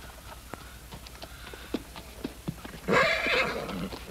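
Hooves of a Gypsy colt clop in an uneven rhythm on hard ground of a farmyard, then the horse lets out a loud, close whinny near the end.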